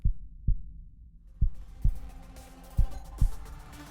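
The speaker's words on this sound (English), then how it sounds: "you start hearing the player's heartbeat getting louder and slower" Player's heartbeat in a video game, heard alone as six heavy, deep thumps in pairs with long gaps, growing slower over about four seconds against near silence, with faint ambience creeping in.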